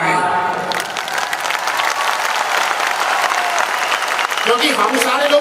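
A hall full of people at a gathering of fighters bursts into sustained, dense clapping that stays loud and steady for several seconds before tapering slightly at the end.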